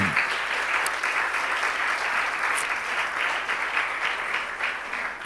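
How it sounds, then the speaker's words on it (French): A church congregation claps loudly and continuously, a dense, close burst of applause filling the room throughout. "Acclamons très fort pour le Seigneur."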